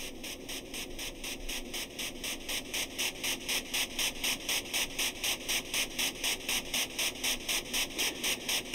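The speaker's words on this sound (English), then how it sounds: "it's a white noise generator with a little bit of delay, and it sounds like this" A white noise generator on a modular synth hisses continuously, shaped by a little delay into a pulsing, rhythmic wash that grows slightly louder and more regular over time, with no talking.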